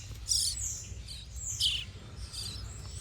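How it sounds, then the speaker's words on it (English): Newborn baby birds in a nest inside a box give short, high chirps in a few quick bursts, close and fairly faint over a quiet background hum. "It's like newborn birds in this like box of stuff."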